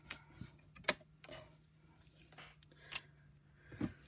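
Scissors snip through junk mail and packaging pieces in a quiet room, a few soft, scattered crisp cuts at an uneven pace with small rustles between them.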